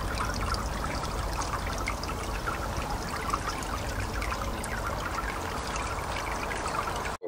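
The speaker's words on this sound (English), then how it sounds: "A rill that runs down and feeds into here and then yes. gets pumped back." Water trickling steadily along a garden fountain rill that feeds a pumped recirculating pool, a constant close splashing and babbling flow with no pauses and no voices.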